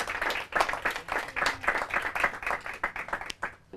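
Studio audience clapping for quiz teams at a Portuguese quiz show, a steady patter of hands from a modest group, moderately loud, swelling in waves and then thinning out abruptly at the end.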